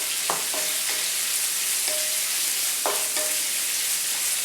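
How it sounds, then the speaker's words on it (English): Green chilies and red onions sizzle in hot oil with cumin seeds, a steady close hiss of frying with a few sharp stirring clicks. "I'm going to be putting in some green chilies and some red onions."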